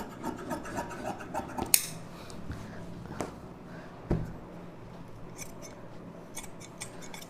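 Scissors cutting through blouse fabric close up, giving soft snipping and rubbing sounds with a few sharper clicks scattered across the quiet stretch.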